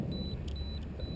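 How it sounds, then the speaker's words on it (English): An electronic six-minute flight timer at an electric R/C model airplane field in Fort Worth, Texas gives three short, evenly spaced high beeps over a steady outdoor background hiss. "That is my 6-minute timer."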